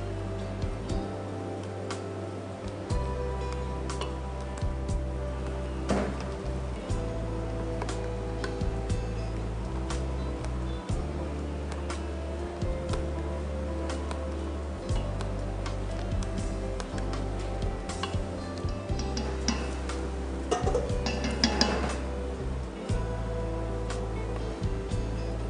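Cream being gently stirred into a cheesecake cheese mixture, with soft, steady, rhythmic clicks of a utensil against the bowl over a constant low kitchen hum.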